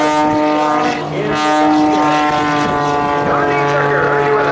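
A propeller aerobatic airplane performing at the 2011 Rhode Island Air National Guard open house airshow: a loud, steady, buzzing engine drone that holds throughout with slight shifts in pitch, with faint crowd or announcer sound underneath.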